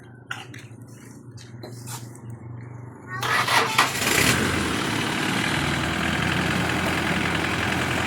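A small engine with a dirty valve, not yet carbureted properly, cranks with sputters for a few seconds before catching and running steadily and loudly, with a voice heard faintly at the start.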